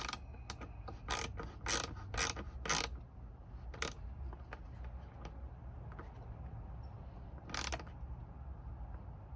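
Hand tool tightening a Puig windshield extension on a Honda SuperCub C125, a few close ratcheting clicks in short clusters with quieter pauses between, outdoors after dark.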